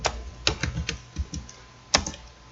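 Computer keyboard typing during a SQL database lesson, about a dozen quick, close keystrokes in an irregular burst, with one sharper key press near the end.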